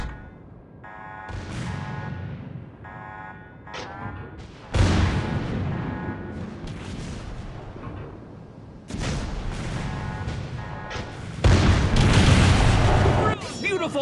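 Naval video game battle with the British battleship Hood: heavy booming explosions and gunfire rumble in loud repeated bursts as an enemy ship sinks, mixed with electronic tones and game voice callouts.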